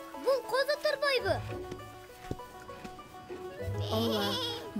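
A lamb in an animated children's show gives two wavering bleats, one at the start and another near the end, with a character's speech in between.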